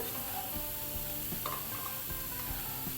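Potatoes and onions are stirred together in a hot pan for a Kerala vegetarian meal. A soft, continuous sizzle runs throughout, with faint scraping and clinking from the stirring.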